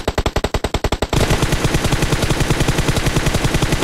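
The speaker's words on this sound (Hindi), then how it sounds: "लगातार फायरिंग हो रही है" Rapid automatic gunfire in a PUBG match, a sharp burst of evenly spaced shots followed by a denser, nonstop stream of fire, loud and close with no talk.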